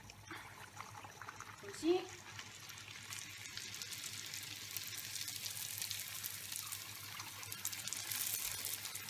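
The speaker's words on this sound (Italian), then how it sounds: "Andiamo a friggere l'ultimo panzerotto" An Apulian panzerotto is lowered into hot oil and fries with a soft, steady sizzle that swells after a brief splash, while a voice briefly speaks.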